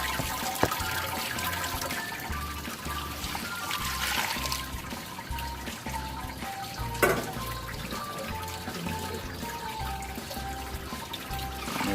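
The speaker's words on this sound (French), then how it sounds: "Puis on va le rincer notre grain avec notre eau ici." Water poured to rinse malted grain while brewing beer, a steady trickling and running flow that continues throughout with a brief splash partway, close by and without speech.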